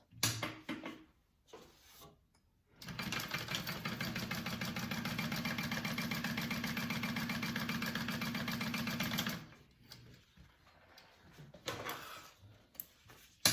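A sewing machine runs steadily for about six seconds, topstitching a folded edge on a handbag panel, its fast even needle chatter close and alone between quieter handling noises.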